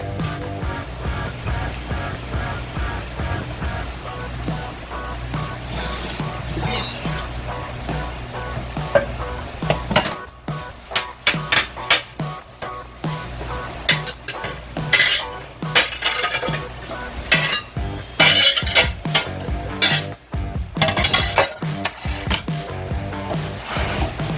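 Pork in a slow cooker being stirred to mix in salt and pepper, a spoon repeatedly scraping and clinking against the pot in an irregular close rhythm over a faint simmering hiss.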